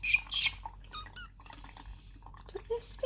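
A budgie gives short shrill squawks and chirps beside a small trickling fountain bath, close and lively, with light water drips and a person's soft voice between the calls.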